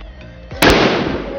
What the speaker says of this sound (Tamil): லட்சுமி வெடி, லட்சுமி வெடியை ட்ரை பண்ணிருவோம்.